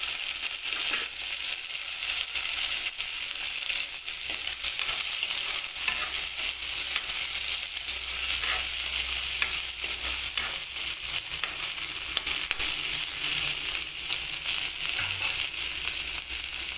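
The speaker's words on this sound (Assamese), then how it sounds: "এতিয়া মই বিলাহীখিনি দিম।" Chopped tomatoes sizzle and crackle in a hot pan while being stir-fried for Maggi noodles, a dense, steady frying hiss with occasional scraping and stirring clatter throughout.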